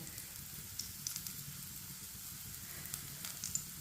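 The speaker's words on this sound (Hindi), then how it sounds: "पराठे को 2 मिनट के लिए पकने देते हैं।" A paratha fries in oil on a pan, making a soft, steady sizzle dotted with small crackles and pops, faint and close.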